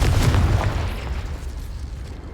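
Confringo spell explosion in the video game Hogwarts Legacy, a single heavy booming blast that hits loud at once and then rumbles away over about two seconds.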